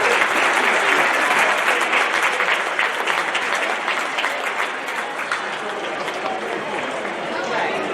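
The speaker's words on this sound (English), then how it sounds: "Let's give him a round of applause." Steady, dense crowd applause fills a basketball arena during a Sul Ross State vs Cameron men's college game, loud and continuous for the whole stretch, with faint voices mixed into the crowd.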